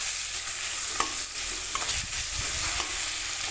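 Onion and tomato frying with rock salt in a pan, a continuous loud close sizzle with occasional spoon scrapes and stirring knocks against the pan.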